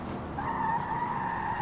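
Sustained tire squeal from a car drifting in Forza Motorsport, a steady loud screech holding under engine roar throughout the short burst, with no voices.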